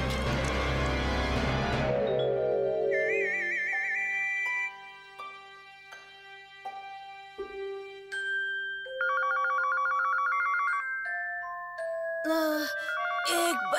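An electronic telephone rings in a Hindi children's cartoon: a run of bright, stepped electronic tones and trills, loud and alone, following a short burst of music.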